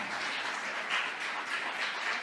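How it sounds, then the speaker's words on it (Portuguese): A church congregation applauds the Lord in a steady, dense wash of clapping that holds at an even, moderate level throughout with no distinct single claps standing out. "Você pode aplaudir o Senhor?"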